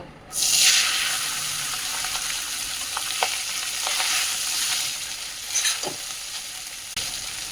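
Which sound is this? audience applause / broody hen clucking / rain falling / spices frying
spices frying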